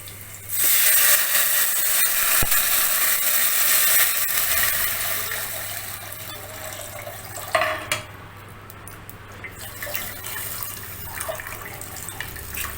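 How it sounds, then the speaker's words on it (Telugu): About six cups of water pour steadily into a cooking pot on a home stove, a close, continuous splashing rush that thins and fades toward the end, with no talk. "సో ఈ వాటర్ని ఇందులో యాడ్ చేసేస్తాను"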